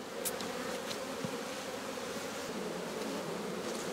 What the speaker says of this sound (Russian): Вот столько получилось пчел.